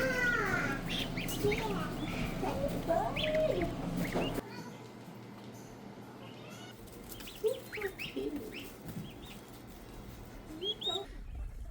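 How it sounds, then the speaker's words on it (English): Geese honk and chatter in short bursts, moderately close, with some wing flapping and a quieter stretch of scattered calls toward the end. "Those are geese."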